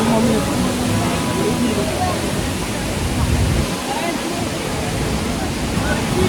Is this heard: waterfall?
yes